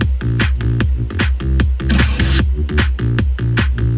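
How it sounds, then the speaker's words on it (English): Electronic claps punch through a driving dance beat, landing in a steady repeating pattern over a heavy kick and bass. "Then we have some claps."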